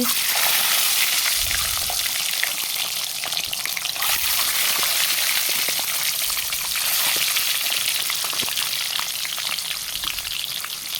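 Eggs seasoned with salt and turmeric frying in hot oil in a pan for a Bengali egg curry, a loud steady sizzle and crackle with scattered pops, close up and continuing throughout.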